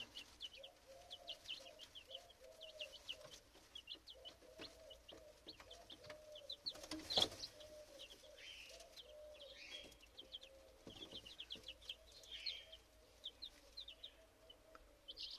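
Silkie chickens kept under a lamp make faint, repeated high peeps and soft clucks in scattered bursts over a quiet background, with one louder cry partway through.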